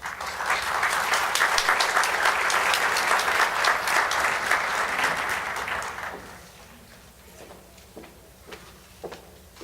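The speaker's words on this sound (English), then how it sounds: "Please give a big round of applause for the Honorable Dr. Valerie Arkoosh" Audience applause at a 2019 Martin Luther King Jr. memorial event, loud sustained clapping for about six seconds that fades into scattered claps and quiet room noise.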